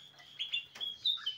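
Cucak hijau mini and cucak ranting birds in a mini aviary give short, high chirps and tweets, several quick calls scattered over a faint background.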